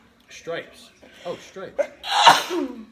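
A sneeze bursts out loud and close after brief talk, a broad noisy blast followed by a short trailing voiced tail, with people chatting around it.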